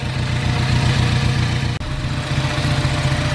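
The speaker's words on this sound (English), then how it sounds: "So yeah, we're just letting it idle. It's running pretty right now. It sounds good." A Ford Focus ST engine, freshly fitted in a motor swap, idles steadily at close range, a constant even drone with one brief dropout partway through.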